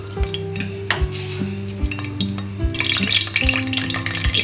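Cinnamon and cloves sizzle in hot oil in a pot on the stove, with a steady frying hiss, regular low knocks and a brighter crackle building toward the end.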